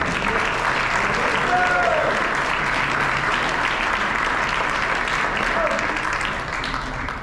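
A crowd at a high school basketball end-of-year awards banquet keeps up steady, full applause, thick and even throughout, with faint cheers or voices mixed in.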